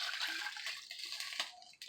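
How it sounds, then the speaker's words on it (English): Water poured into a cooking pot for Southern-style collard greens, a soft continuous splashing gush that tapers off near the end, heard close and faint with no talk. "So that was about 4 cups of water"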